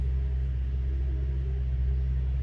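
A farm tractor's engine rumbles in a steady, deep, continuous drone, close by and unbroken, with no voices over it.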